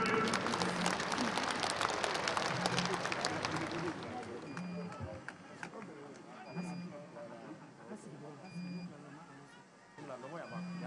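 A crowd at a peace and social cohesion prayer gathering in Bobo, Burkina Faso, breaks into dense, loud applause that fades after a few seconds into scattered claps and murmuring voices.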